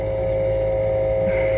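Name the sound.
engine running after air was bled from the system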